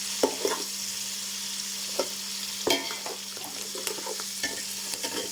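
Curry leaves, fenugreek leaves and coriander frying in a pan for egg pulao, with a soft steady sizzle, a low constant hum and intermittent clinks and scrapes of stirring.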